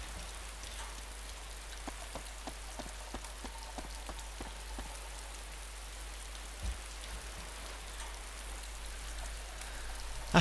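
Rain pours in the DayZ video game, a soft constant patter of drops on surfaces with a low steady hum beneath and a few faint clicks, heard alone without talking.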